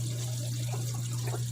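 Water in an aquarium filtration system, with a submersible pump and an adjustable valve, flows in a steady, soft trickle over a constant low electrical hum, with no talking.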